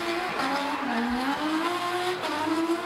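A drift car at a pro-sport drift series round at Baypark Stadium runs down the front straight, its engine revving hard over sustained tyre squeal, close and loud without pause.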